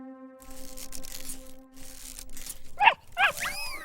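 A puppy gives two short, high yapping barks near the end, close and sharp, after a quiet stretch with faint background sounds.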